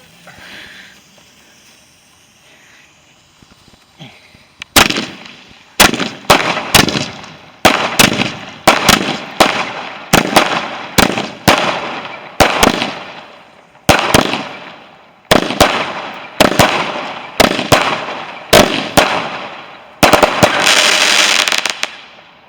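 Fireworks and firecrackers bang on bonfire night, a long run of sharp, loud explosions at irregular intervals, each followed by a crackling tail, ending in a dense burst of crackle, with no talk.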